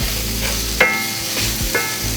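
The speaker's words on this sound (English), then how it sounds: "Now we're adding in some chopped tomatoes and frying these for a minute or two." Chopped tomatoes frying in a pan, a steady sizzle broken by a couple of brief scraping stirs of the utensil against the pan.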